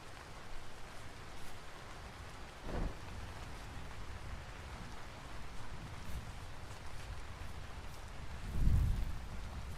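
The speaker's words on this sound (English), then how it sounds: "The constant rain is also making me second guess everything I hear" Constant rain falls in the survival game Vintage Story, a steady hiss with low rumbles of distant thunder swelling near the middle and end, no voices.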